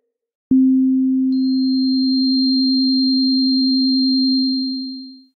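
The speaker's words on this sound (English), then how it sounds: "Now we're starting to add harmonics to our sound." A clean low sine tone from the Phosphor 2 additive synth holds steadily, and about a second in, a faint high harmonic partial joins above it. Both sustain evenly, then fade out together at the end.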